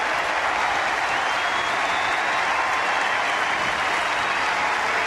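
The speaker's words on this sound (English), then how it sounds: "the ovation already building for Derek Holland" A packed baseball stadium crowd of about 41,000 gives a pitcher a loud, sustained ovation, dense continuous applause and cheering filling the whole stretch with no break.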